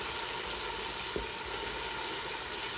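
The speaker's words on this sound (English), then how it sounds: "I'm just going to fry that for a few minutes" Food sizzles and crackles steadily in a hot pan while cooking jollof rice, a constant dense hiss close up with one brief knock.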